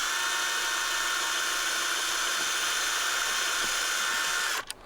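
A power drill bores a hole in a twig branch for a garden privacy screen, making a steady high whine that holds for over four seconds, then spins down and stops.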